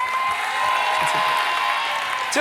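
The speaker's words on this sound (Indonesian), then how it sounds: "Tepuk tangan untuk Shakila juga." Studio audience applause on the Family 100 game show, a dense steady clatter of clapping with a faint crowd murmur, and a voice speaking briefly at the end.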